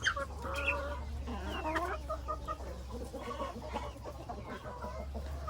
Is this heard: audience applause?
no